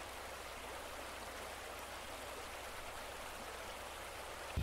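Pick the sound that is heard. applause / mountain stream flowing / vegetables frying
mountain stream flowing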